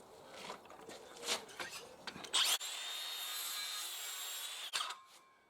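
A small corner is trimmed off a timber rafter being fitted to a structural steel framed roof. Close scraping and handling noises lead into a sustained two-second power-tool whine through the wood that stops abruptly, with no talking.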